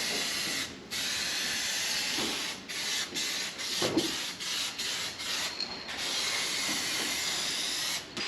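Aerosol spray paint can sprayed onto a fiberglass van side flare in a workshop, loud hissing bursts in quick repeated passes separated by short silent gaps, close by with no speech.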